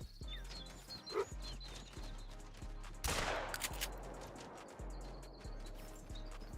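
A single sharp rifle shot from a hunting game cracks loudly midway through, among game sounds that include regular soft thumps and bird-like chirps.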